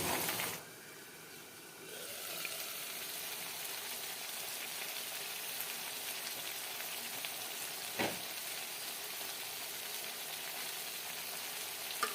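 Dried fish and eggplant fry steadily in a pan, giving a continuous close sizzle broken by a brief quieter dip early on and a single sharp tick near the end.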